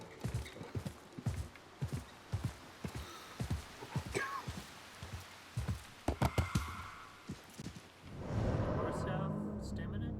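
Horse hooves clip-clopping at a steady trot in Assassin's Creed Mirage, moderately close, fading into a rushing swell near the end, with a player talking over it.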